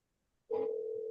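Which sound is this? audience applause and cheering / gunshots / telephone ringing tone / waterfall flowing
telephone ringing tone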